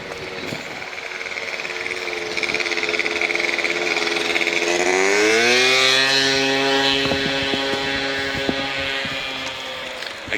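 A loud scooter engine revs up and passes inside a multi-level parking garage beside a shopping center, its pitch climbing and booming off the concrete as it nears, then holding a strong drone.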